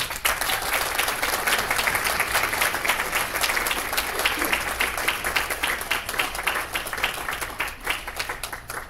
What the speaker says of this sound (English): I ask you to please applaud your loved ones here.